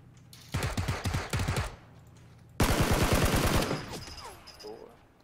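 Bursts of rapid automatic gunfire in the video game Battlegrounds, two loud volleys of close, rattling shots separated by a brief pause, then fainter game sounds trailing off.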